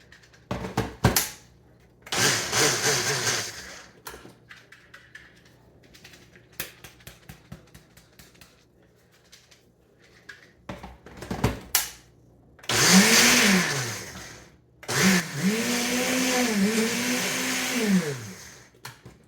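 A small Vitamix Ninja blender whirs loudly in several bursts, with a long steady run near the end, close by and with short pauses of quiet between runs.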